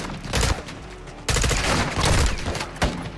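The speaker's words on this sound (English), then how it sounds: "Get your cover and return fire." Gunfire in the video game Call of Duty: Modern Warfare 2 rings out in loud, rapid automatic bursts, broken by short pauses and then starting up again in a close barrage of shots.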